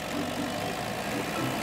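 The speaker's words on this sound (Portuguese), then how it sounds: "Hop Hop chegou com um trator." A cartoon tractor arrives with a steady, dense engine rumble that holds at an even level throughout, continuous and fairly close, with no voices.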